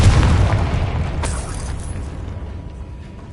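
A Confringo fire spell explodes in Hogwarts Legacy, a loud booming blast at the start that rumbles and decays with a hissing tail over a few seconds.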